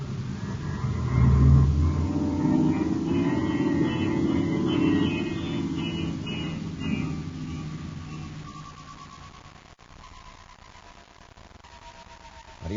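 A spaceship's star drive engaging in an old-time radio space drama, a low swelling engine rumble that surges early, then thins into a steady hum with a rising tone fading out.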